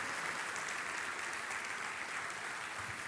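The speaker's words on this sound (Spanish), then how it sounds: "Aleluya, aplauda a Dios." A church congregation applauds during a worship service, a steady dense wash of clapping from many hands that fills the room evenly throughout, with no pauses.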